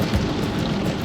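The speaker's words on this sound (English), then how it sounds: "it's raining" Rain falls steadily at night in stormy weather, a dense, continuous hiss with no voices over it.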